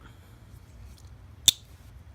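A J.D. Ellis slip joint knife blade snaps to its half stop with one sharp, crisp metallic click, close and isolated against a quiet background.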